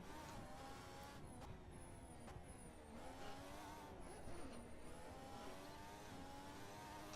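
A 2014 Formula 1 race car engine in a racing simulation screams steadily at high revs, its pitch rising and falling through gear shifts as the car slides through a lap, alone and without talk.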